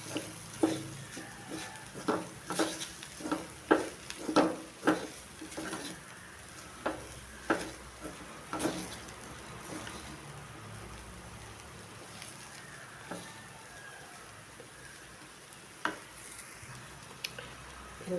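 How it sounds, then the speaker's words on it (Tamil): Okra stir-fry with spice powder and grated coconut is stirred in a pan on the stove. A ladle scrapes against the pan in repeated clacking strokes over a faint sizzle, busy at first, then slower and sparser. "தேங்காய் துருவி வச்சுருக்கேன், அதையும் சேர்த்துக்கிறேன். எல்லாத்தையும் கலக்கி விட்டுக்கலாம்."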